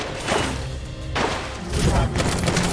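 Enemy gunfire in the action game Samurai Jack: Battle Through Time, heard in Aku's Mines as repeated thuds and bursts of shots mixed with clashing combat noise, fairly loud and continuous throughout.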